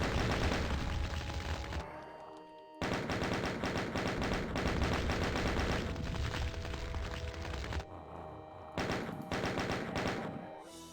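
Rapid, dense automatic gunfire from a DOOM game running the Alien Vendetta mod, loud and sustained in long bursts with brief pauses, layered over game music and thudding impacts.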